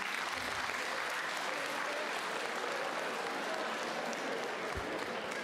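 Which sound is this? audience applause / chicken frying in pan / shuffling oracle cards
audience applause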